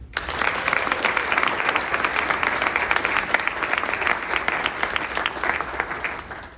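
A banquet audience at a Boston Massacre commemorative dinner claps for honored national chairs, a full, even burst of applause from many hands that swells and tapers off near the end.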